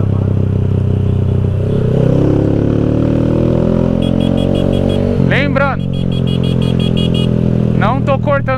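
A tuned Honda Fan 190 motorcycle hums steadily through heavy nighttime traffic, its close, constant engine drone mixing with surrounding car noise. A rider talks over it throughout.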